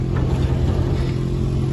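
A car's engine drones steadily as it reverses on a mountain road near the Cave of Hira in Makkah, a continuous low rumble with road noise, close and unbroken, no talk.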